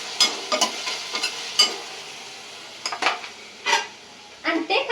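Curry leaves drop into a pan of mutton liver fry curry and sizzle, with repeated scraping and stirring clatter of a spoon against the pan in irregular bursts, close and fairly loud, without talk.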